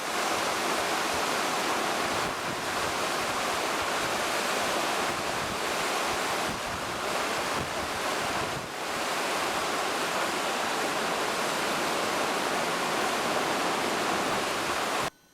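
Steady rushing river water in Heidelberg, Alaska, a loud continuous broadband wash with faint wind buffeting on the microphone and no voices.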